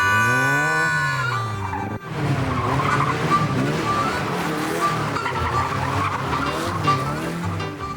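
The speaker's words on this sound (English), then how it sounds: "This is auto testing, an extreme test of a person's skill at the wheel." A car in an auto testing motorsport event at a countryside venue turns hard left and right. Its engine revs rise and fall close by, with long squealing tyre skids over a continuous loud roar.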